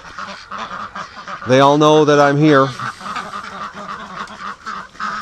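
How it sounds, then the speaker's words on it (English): A flock of ducks gathers at a gate near a lake on a warm morning, breaking into a loud burst of honking quacks partway through, with someone talking quietly before and after. "So the ducks are coming."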